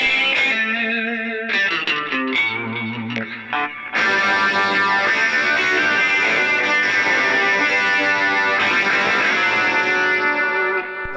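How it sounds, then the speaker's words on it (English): Electric guitar with distortion played through a Vox Valvetronix VTX150 amplifier with effects, a few picked notes and then sustained, heavily driven chords ringing loud and alone. "Add a little bit of distortion to that."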